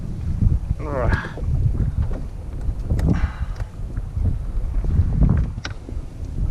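Wind gusts across open water and buffets the microphone during winter low-tide kayak fishing in Florida from a Hobie Pro Angler 360, a steady rumbling roar with occasional soft muffled sounds.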